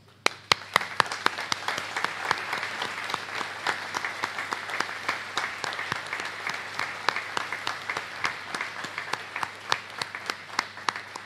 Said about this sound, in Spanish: Lo hacemos con este aplauso.